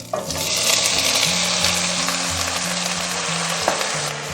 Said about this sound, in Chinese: 香料的话，我们准备8角、香叶、桂皮，然后1根干辣椒，然后1个陈皮，好，先炒一炒。